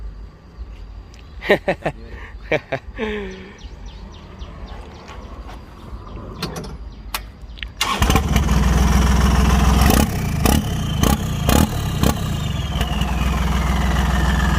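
Talk and scattered clicks at first, then a loud turbocharged L36 pickup truck engine starts and rumbles steadily close by, with a few sharp bursts over the drone.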